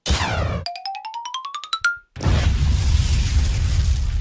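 A cartoonish sound effect: a rising series of quick tones followed by a brief silence, then a loud, sustained explosion rumble.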